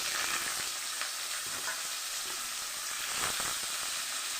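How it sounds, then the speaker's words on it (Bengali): Flat beans fry in hot mustard oil with cumin seeds, giving a steady, close sizzle with soft stirring scrapes scattered throughout and no voices. "চলুন আমি আগে শিমটাকে ভেজে নেবো"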